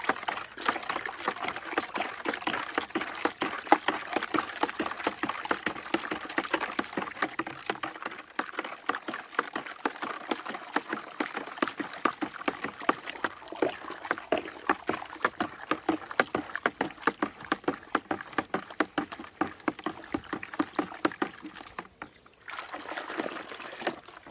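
Sugar is stirred into an acacia blossom wine mixture, giving a continuous close sloshing and swirling of liquid with rapid rhythmic strokes that ease off near the end, with no talking.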